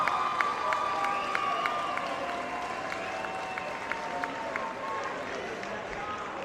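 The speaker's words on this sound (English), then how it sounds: "Please give both boxers a round of applause" A boxing crowd applauds both fighters after a bout, moderate scattered clapping and cheering in a reverberant hall beneath a ringing tone and background voices.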